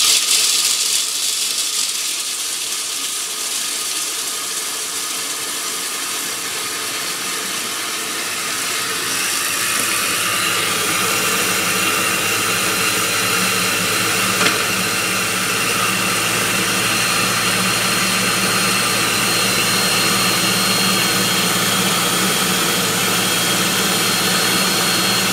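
A kitchen blender grinds almonds into flour for almond butter, a loud, continuous roaring whir that thickens and brightens after the first few seconds and then holds steady with no talking.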